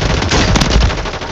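Automatic gunfire in the video game Warzone 3, a loud dense burst of rapid shots filling the whole moment with no voices.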